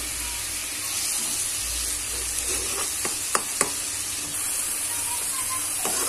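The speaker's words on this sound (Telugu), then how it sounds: "దీని స్మెల్ పోయే వరకు ఫ్రై చేసుకోవాలి." Spice mixture frying in a pan for egg curry, a steady broadband sizzle and hiss running throughout, with a few brief sharp clinks of stirring near the middle.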